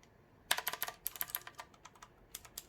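Blue-switch mechanical keys on a Cosmic Byte CB-GK-27 RGB gaming keyboard pressed at normal force, a run of crisp clicky keystrokes in an irregular typing rhythm, close and alone with no talk.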